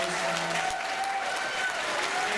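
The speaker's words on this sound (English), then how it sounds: "How about a round of applause for the staff of the Doubletree Hotel?" A banquet audience applauding hotel staff at a dinner, a dense, sustained round of clapping from a large room, even and continuous throughout.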